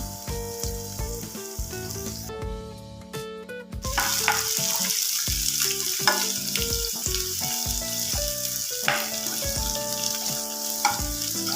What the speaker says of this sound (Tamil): நல்லா ஃப்ரை ஆயிடுச்சு. ரொம்ப ஃப்ரை ஆகிடக்கூடாது.